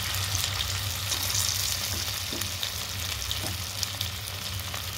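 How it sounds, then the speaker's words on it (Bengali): Snacks fry in oil over low heat, a soft, even sizzle that holds steady throughout, with a few faint stirring clicks and no voices. "সুন্দর হালকা জালে এটা কিন্তু ভাজতে হবে"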